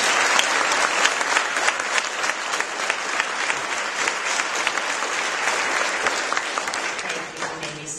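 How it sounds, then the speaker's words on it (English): Sustained audience applause at an officers installation ceremony, a full room clapping steadily and loudly before fading slightly at the end. "Let's give these officers a round of applause."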